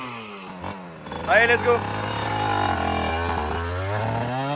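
A 50cc motorcycle engine at full throttle gives a loud, buzzing drone that rises sharply in pitch, then holds a steady high whine, with someone speaking over it.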